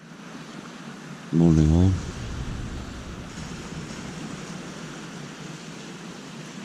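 Steady broadband wash of surf on a pebble beach in Devon during morning wild camping, continuous and moderately loud throughout, with wind mixed in and a brief spoken greeting from a close voice near the start.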